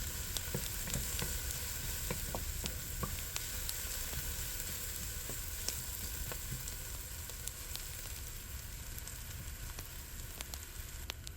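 Red snapper fries in hot oil, giving a steady, moderately quiet sizzle with scattered sharp pops and crackles spread evenly across the whole stretch.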